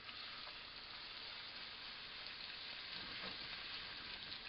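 Beef fillet searing in a hot pan for beef Wellington, a steady close sizzle and hiss throughout at moderate level, with no voices over it.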